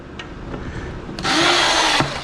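A lower-powered drill drives screws into a workbench under construction. A light tap first, then a loud, steady whir that runs for under a second and stops abruptly, close by.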